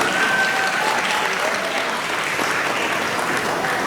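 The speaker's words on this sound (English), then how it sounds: "I'd like to ask you all to give yourselves a round of applause" An audience at a Karen New Year celebration gives a loud, sustained round of applause, dense clapping from many hands held at an even level throughout, with a few voices mixed into the crowd.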